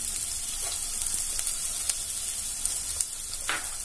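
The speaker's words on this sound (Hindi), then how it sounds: "हमारा तेल अच्छे से गर्म हो गया, मैं इसमें डालूंगी किसा हुआ अदरक।" Grated ginger and onions fry in hot oil, a steady close sizzle with faint crackles and occasional stirring clicks.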